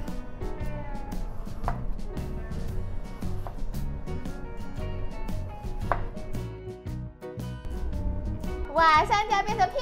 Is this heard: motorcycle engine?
no